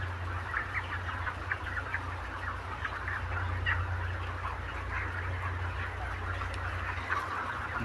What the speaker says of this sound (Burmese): ကြက်ဖာကြီး